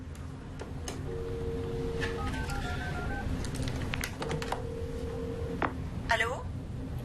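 Telephone keypad beeps out a short run of dialing tones on an office phone, spaced tones in two quick groups over soft background noise, followed by a brief ringing trill.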